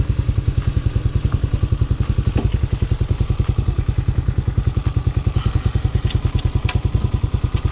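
A Honda Hawk 250cc dual sport motorcycle engine runs steadily nearby in the city, its firing pulses a fast, even, loud throb with some mechanical clatter, and no one speaks.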